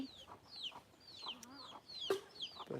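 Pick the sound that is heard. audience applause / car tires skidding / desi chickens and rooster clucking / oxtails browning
desi chickens and rooster clucking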